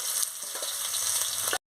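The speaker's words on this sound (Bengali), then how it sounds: "আমি পেঁয়াজ কুচিটা দিয়ে দিচ্ছি, দিয়ে ভালো করে ভেজে নিচ্ছি।" Chopped onion frying in hot oil for a fish curry hisses in a loud, steady sizzle with faint stirring scrapes, then cuts off.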